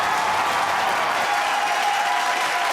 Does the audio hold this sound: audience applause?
yes